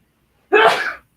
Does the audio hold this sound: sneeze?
yes